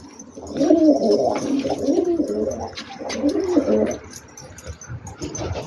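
Pigeons coo in low, bubbling rolls close by, several overlapping calls rising and fading over a few seconds.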